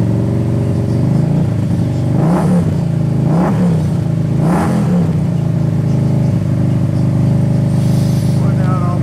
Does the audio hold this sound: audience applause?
no